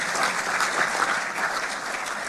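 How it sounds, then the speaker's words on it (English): A panel audience breaks into loud, dense applause at the close of an evening talk, a continuous wash of clapping with no speech over it. "big round of applause for Mark."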